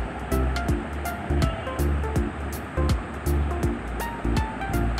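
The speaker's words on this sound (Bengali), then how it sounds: "এখন পাটায় বেটে দিব।" Dried fish is ground on a stone pata slab in a steady back-and-forth rhythm, each rough scraping stroke about half a second apart and heard close up.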